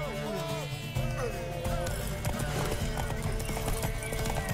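Rapid clip-clop of galloping horse hooves in The Witcher 3, mixed with game music and clashing effects, busy and continuous throughout.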